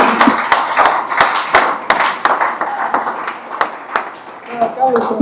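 A church congregation in Yaoundé claps and acclaims Jesus, with rapid loud overlapping hand claps in an uneven rhythm mixed with shouting voices throughout.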